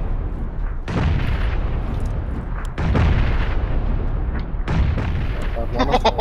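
Grenade blasts in the shooter game PUBG, loud booming explosions with broadband rumble, one near the start, another around three seconds and a third near five seconds, with a brief high ringing after the last.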